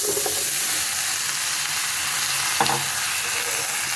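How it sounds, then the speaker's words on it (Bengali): Bottle gourd frying with half-fried prawns in a pan, a continuous close hiss of sizzling with soft scraping as the mix is stirred, no talking. "আমি লাউগুলো সব দিয়ে দেবো।"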